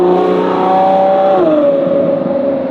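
A Novitec Ferrari F12 N-Largo with an aftermarket exhaust revs loud and close in Dubai, a sustained high engine note that drops in pitch and settles into a steady drone.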